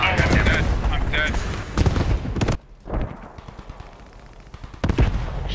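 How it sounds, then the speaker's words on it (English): Gunfire in the World War II video game Post Scriptum crackles in bursts of sharp shots, some loud and close and others more distant, with voices talking over the gameplay. "Gunfire on the left."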